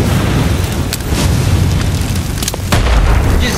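Grenade explosions in the shooter game Badlanders: loud, rumbling booms with sharp bursts and crackling debris, several impacts overlapping in quick succession with no talk.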